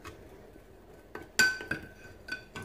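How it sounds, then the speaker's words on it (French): A utensil clinks and scrapes against a bowl while ktayef batter mixed with hot water is stirred, giving a few bright taps spaced irregularly up close, with no talking. "je le mélange bien"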